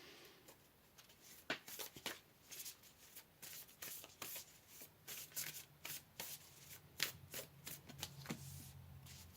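A deck of oracle cards is shuffled by hand in a quiet room, producing a continuous run of soft riffling swishes and papery slaps that come close and steady, with no talking over them.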